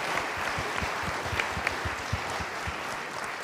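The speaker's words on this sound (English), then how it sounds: "applause." Audience applause at the launch event for an Amazon protection campaign, a steady, dense wash of clapping from a crowd, moderately loud and continuous throughout with no talking over it.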